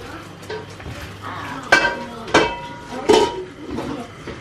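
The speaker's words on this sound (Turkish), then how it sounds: "Ben çorbayı karıştırmayı unutmayayım." Soup being stirred in a pot during outdoor cooking, with close metallic scrapes and clinks of a utensil against the pot, three sharper knocks standing out over low background noise.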